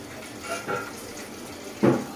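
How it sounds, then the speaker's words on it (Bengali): Meat is washed in a home kitchen, with water splashing in short, soft bursts and then one louder splash near the end. The sound is faint and close, and nobody talks over it. "তো মাংসটা ধুই আমি এখন।"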